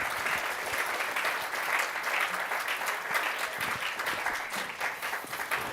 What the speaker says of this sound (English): Can we get a nice, gentle round of applause for our awesome speakers?